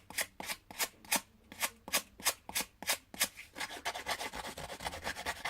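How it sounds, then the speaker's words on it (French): A playing card's edges are rubbed to age it, making a quick, regular series of close, dry scraping strokes that later turn faster and softer. No one speaks over the rubbing. "Vous passez tous vos bords pour vieillir votre carte."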